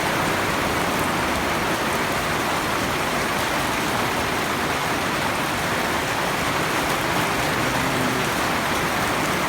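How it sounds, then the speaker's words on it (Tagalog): Heavy rain pours down steadily, a dense, even hiss of drops striking surfaces, close and unbroken throughout. "Mainit, tapos biglang ulan oh."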